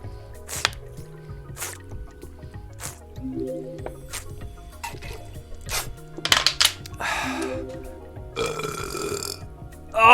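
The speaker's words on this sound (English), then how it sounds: "That burp had to come out." A loud, drawn-out burp after downing a whole bottle in one go, a few rumbling gulping pulses building to a long guttural belch close to the mic, with music playing in the background.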